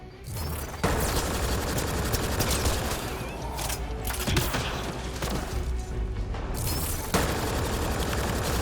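Mass Effect: Andromeda combat brings a loud, nonstop barrage of weapon fire from all sides, with crashes and booms layered through dense, chaotic shooting.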